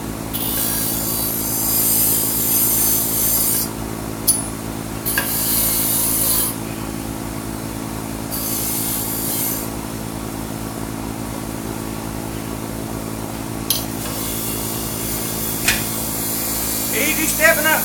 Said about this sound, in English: The drill press is shaking real bad.